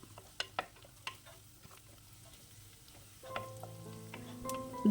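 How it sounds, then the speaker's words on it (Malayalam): Thinly sliced onions sautéing in a pan for a Kerala drumstick and tomato curry, a soft steady sizzle with a few sharp utensil clicks early on, then louder stirring and scraping toward the end. "സവാള ആയിട്ടുണ്ട്, ആവശ്യത്തിന് വഴന്ന് വന്നിട്ടുണ്ട്"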